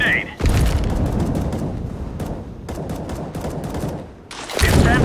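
Grenade explosions and gunfire in the game Counter-Strike: Global Offensive, a loud dense roar of blasts and rapid shots that fades midway, then surges again at the end. A voice talks underneath.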